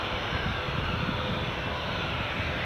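Aircraft at Edinburgh Airport runway 24, a continuous broad engine roar held at steady loudness throughout, moderately distant, with no talk.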